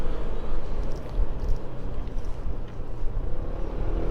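A 2018 Honda Forza 125 scooter engine runs as a steady low rumble, mixed with broadband wind-like noise and no clear speech.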